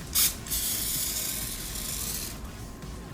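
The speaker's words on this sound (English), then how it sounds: "I'm going to spray it lightly so it doesn't stick." Pam cooking spray misted lightly into a pan, a short close hiss with a brief sharp burst at the start followed by a sustained airy spray that fades near the end.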